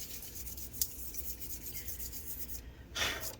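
Someone rubs and wipes dust from the inside of an opened HP 15t laptop, a faint, close, soft scratchy brushing that continues with a slightly louder swipe near the end.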